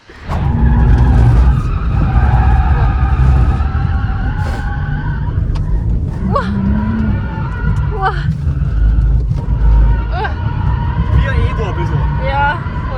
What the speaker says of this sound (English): if you coincidentally have a landing strip at home, you can drift your RS5